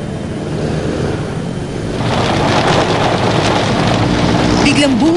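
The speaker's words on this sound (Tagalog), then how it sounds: "Biglang buhos ang malakas na ulan kaninang umaga." A heavy morning downpour in Metro Manila makes a steady, close broadband roar that swells louder after the first couple of seconds and stays constant to the end.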